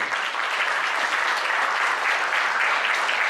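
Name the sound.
audience applause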